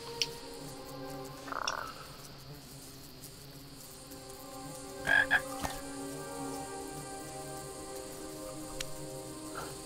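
A frog croaks in the King's Quest video game, a few short distinct croaks standing out over a quiet bed of insect chirps and a faint hum.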